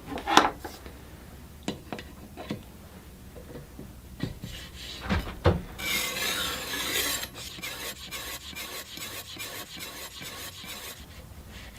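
Knife blade rasping against a medium grit diamond plate on a TSPROF Blitz sharpener, a series of near, scratchy strokes that start sparse and quickly grow into a denser, steady back-and-forth rhythm.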